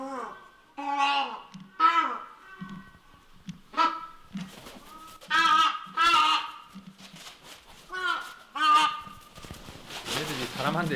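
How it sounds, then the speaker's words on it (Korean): Captive crested ibises at a restoration center cry loudly in repeated harsh, honking bursts, several calls in a row with short pauses, close and prominent, with a voice talking in between. "따오기들은 목 놓아 울기만 할 뿐 먹이를 먹으려 하지 않는데요."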